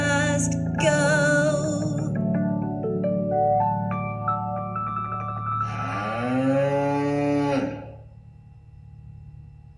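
Cows at Point Reyes moo in a series of loud, overlapping calls that rise and fall, one long bellow near the end before fading out, with no talking.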